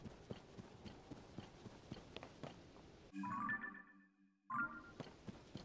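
Horse hooves clip-clop in a video game, a steady run of close footfalls that drops out briefly partway through before resuming.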